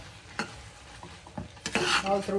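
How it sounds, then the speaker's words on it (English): Ghee sizzling as sweet rice-and-lentil pongal is stirred in a pot, a sputtering fry broken by several spoon scrapes and clinks that swell into a louder burst of crackling near the end. "I'm going to add some ghee now."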